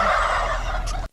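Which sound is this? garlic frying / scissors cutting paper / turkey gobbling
turkey gobbling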